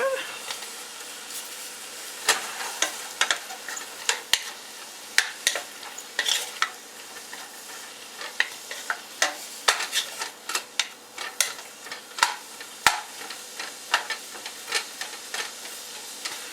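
A spoon stirring pitted cherries and sugar in a pot, giving repeated irregular clinks and scrapes against the metal over a faint background hiss.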